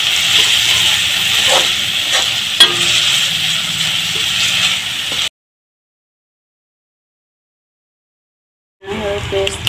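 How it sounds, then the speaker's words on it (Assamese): Onion paste fries in hot oil with a loud, hissing sizzle and a few spatula knocks. The sound cuts to silence midway and the sizzle returns near the end, with no talking. "ৰঙচুৱা হোৱালৈকে ভাজি লওঁ।"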